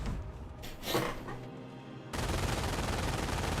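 MG42 machine gun fire in the Company of Heroes video game: dense, sustained bursts of rapid gunfire that fill the soundscape, loud and continuous, with a sharp jump into heavier, unbroken firing partway through.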